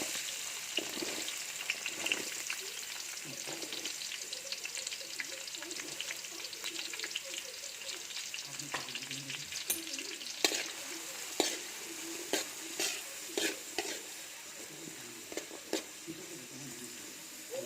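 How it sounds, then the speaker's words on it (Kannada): Onions frying in hot oil in a home kitchen: a steady close sizzle throughout, with occasional spoon scrapes and stirring clinks. "ಇವಾಗ ಎಣ್ಣೆ ಕಾದಿದೆ, ಈರುಳ್ಳಿ ಹಾಕ್ಕೊಳ್ತಾ ಇದ್ದೀನಿ."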